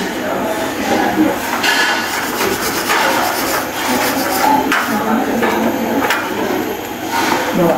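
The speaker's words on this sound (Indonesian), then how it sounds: "Selanjutnya menggunakan sikat kawat ini." A wire brush scrubs slag off an SMAW T-joint weld, giving repeated harsh, gritty rubbing strokes in uneven bursts, close and fairly loud, with brief talk in the background.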